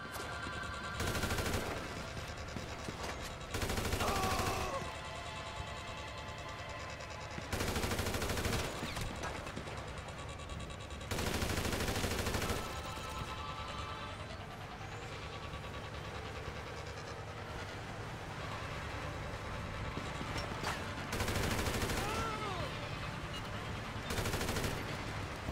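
Heavy, sustained automatic gunfire from a GTA 5 Online shootout, loud repeated bursts separated by short lulls over a constant rumbling background.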